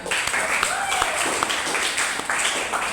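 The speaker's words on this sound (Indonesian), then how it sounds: "kita beri aplaus untuk semua yang bertanya" Audience applause for people who asked questions at a university class session, a steady wash of clapping filling the whole moment with a few sharper individual claps and faint voices mixed in.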